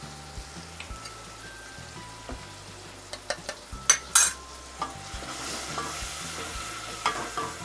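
Tamarind pulp goes into softened, cooking dal and is stirred, producing a low simmering sizzle under a few close scrapes and clinks of a spoon against the pot.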